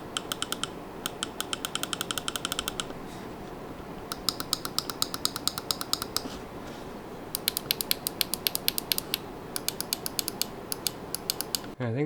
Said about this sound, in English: now we'll just do a little clicky test of all the buttons and whatnot, so you guys can hopefully hear them